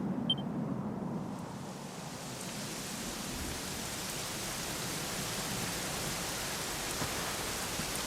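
Steady rain in the video game Dragon Quest XI hisses evenly in a soft, continuous wash with no voices, faint and unchanging throughout.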